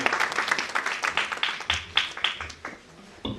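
An audience at the Ahilyabai Holkar Award 2015 ceremony gives steady, lively applause, many hands clapping close and dense before tapering off at the end.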